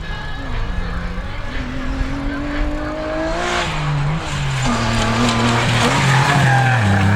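A rally car at speed on special stage ES09 of the Dunes & Marais rally near Maubeuge, its engine note rising and falling through gear changes as it passes, loud and close throughout with no speech.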